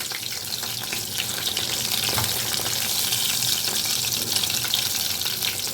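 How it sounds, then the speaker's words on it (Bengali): Pieces of catla fish fry in hot oil, giving off a steady, dense sizzle that holds at an even level throughout, with occasional louder crackles and no voices. "এখন আমি মাছগুলোকে একটু উল্টে পাল্টে লাল করে ভেজে দেব"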